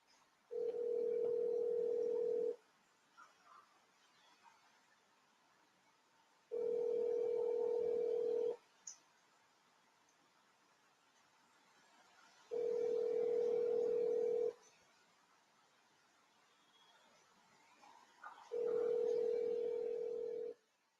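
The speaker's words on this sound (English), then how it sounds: "Call has been forwarded." Repeating telephone line tone after a forwarded call: four steady, loud two-second beeps spaced about four seconds apart, with quiet line hiss in the gaps and no talking.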